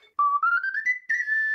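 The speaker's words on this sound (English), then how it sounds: "The death whistle is a vessel flute." A homemade death whistle, a clay-style vessel flute, is blown in short bursts, giving a clear, steady whistling tone that glides upward in pitch, close and loud, alone with no talking.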